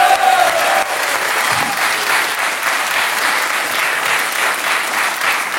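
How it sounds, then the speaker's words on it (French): French TV talk-show studio audience applauding loudly for two comedian guests, a dense, even wash of clapping that holds steady from start to finish. "je vous demande d'applaudir très fort Monsieur Fabrice Eboué et Monsieur Ramzy Bed"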